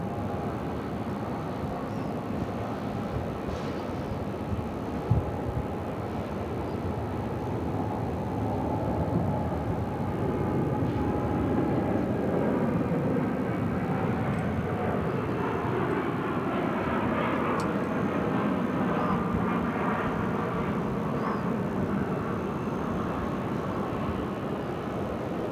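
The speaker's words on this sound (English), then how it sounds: "we do have the Hawaiian-bound American 787-8 Dreamliner now rolling down 7 left" A Hawaii-bound American Airlines Boeing 787-8 Dreamliner rolls down runway 7 left at Phoenix, its engines giving a distant, sustained rumbling roar that swells gradually and holds steady, with no talking.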